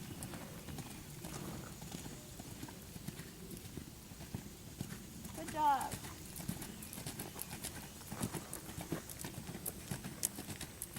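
Hooves thud in a steady rhythmic canter on soft ground at moderate distance, a horse snorts once, and a voice briefly speaks.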